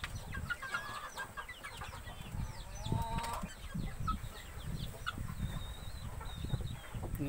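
Bangkok and native village chickens, about 50 days old, cluck and chirp intermittently outdoors, with short high peeps from young birds scattered over a steady background of farmyard noise.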